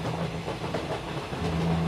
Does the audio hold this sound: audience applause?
no